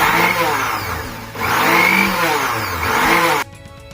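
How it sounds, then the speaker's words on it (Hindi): A mixer grinder roars loudly in two bursts with a brief dip between while preparing ghevar batter, then cuts off abruptly, leaving near silence. "तो हम मिक्सर चलाएं।"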